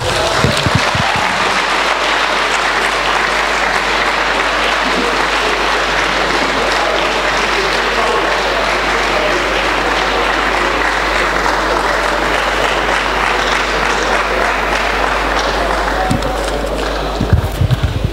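Sustained audience applause for a distinguished scholar at a university event, dense steady clapping from a large crowd lasting throughout, with a low constant hum underneath.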